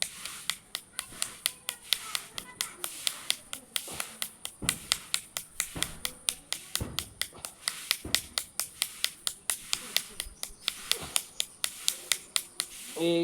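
Hand clapping during a yoga session: a steady, evenly paced run of sharp claps continuing throughout, with faint voices in the background.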